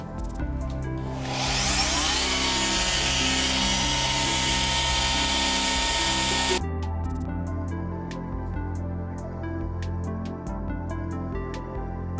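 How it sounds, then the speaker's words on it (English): An oscillating multi-tool cuts out the perimeter of an exterior electric box opening for a pond and landscape setup, a shrill buzzing whine for about six seconds that stops abruptly, followed by faint clicks and handling noise. "Then we want to cut out this perimeter here. We're going to do that with a multi-tool."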